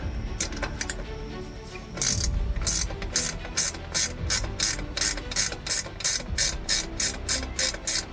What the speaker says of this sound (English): you'll be using your 3/8 ratchet with the extension on it